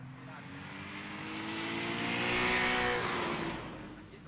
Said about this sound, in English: Marcel Chmielarski, another GT86, really nice looking car